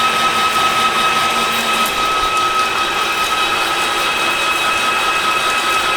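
Steel being turned on a metal lathe at a 10 thou per rev feed, a steady high-pitched cutting whine with bright tonal lines, continuous and close without pauses.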